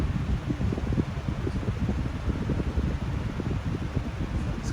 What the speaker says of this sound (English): But this fan is very quiet on low.